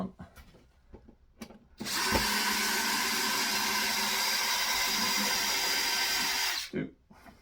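A handheld power drill bores out a clamped piece of wood on a Black & Decker Workmate bench during a beginner toolbox project, running as one steady, loud whine for about five seconds before cutting off.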